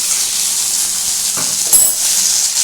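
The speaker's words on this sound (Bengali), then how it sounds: "এটাকে একটু ভালো করে ভেজে নিতে হবে" Ridge gourd chapor, a Bengali fritter, frying in oil in a pan, giving a steady close sizzle throughout with a brief brighter crackle near the end.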